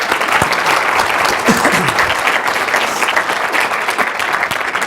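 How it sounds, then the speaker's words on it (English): A round of applause from a webinar audience, steady crowd clapping that stays loud and continuous for about five seconds, with no voices standing out. "A round of applause?"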